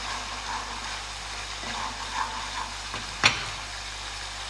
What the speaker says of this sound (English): Stir properly so that the tomato puree will not stick to the bottom of your pan